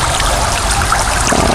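Water pours steadily from a six-stack fountain into its basin, a loud, close, continuous splashing trickle with no voices.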